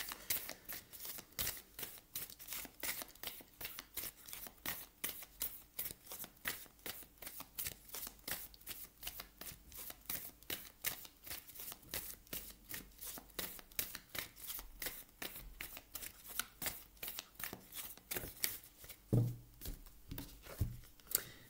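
Denise Linn oracle cards are shuffled by hand, a long run of quick, crisp riffling flicks in a fast, even rhythm, close and fairly quiet, with no talk.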